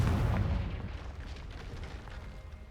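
A Confringo explosive spell blast in Hogwarts Legacy: a loud, low booming burst at the start that decays into a rumbling tail, with no voice over it.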